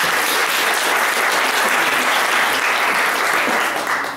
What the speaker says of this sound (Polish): więc gorące brawa dla pana Artura.